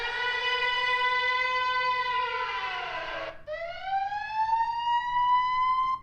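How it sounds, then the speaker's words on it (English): A loud wailing war siren holds a steady tone, slides down and fades briefly, then winds back up and rises again, with no voices. "So let's call it a war siren."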